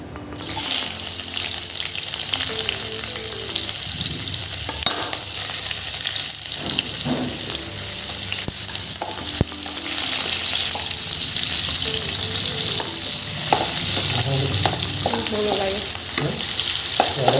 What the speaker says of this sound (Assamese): ইয়াতে আমি এতিয়া পিঁয়াজ দিম।